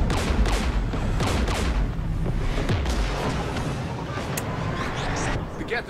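Incoming weapons fire in Mass Effect 3, with dense bursts of gunfire and heavy impacts over a loud rumbling backdrop, and a voice speaking amid the shooting.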